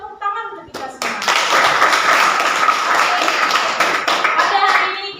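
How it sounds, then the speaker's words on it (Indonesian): A classroom group claps together in a dense, steady burst of applause, starting after a short spoken lead-in and holding loud for several seconds, with children's voices mixed in. "Tepuk tangan untuk kita semua."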